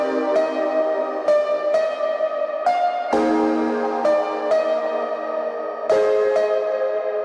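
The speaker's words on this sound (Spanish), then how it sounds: "pero suena así simplemente el sampler" The Arturia Pigments 6 sampler engine plays a sequence of sustained, bright, harmonically rich notes that change pitch every second or so, each new note starting with a soft attack and the tones overlapping smoothly, with no voices present.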